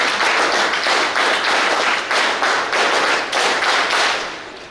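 An audience at a ceremony applauds, a dense, loud burst of hand clapping with a rhythmic pulse that tapers off toward the end, with no talking over it.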